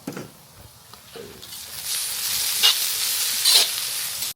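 Ingredients sauté with a little salt in a pan for a duck curry, a steady sizzle that grows louder and fuller partway through, with a couple of brief bright hissing bursts near the end; no talking.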